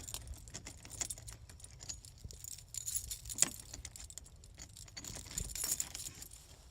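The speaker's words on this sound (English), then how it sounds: "Got too many keys here." A bunch of keys jangles and clinks softly and close up in irregular bursts as they are sorted through, with faint rustling in between.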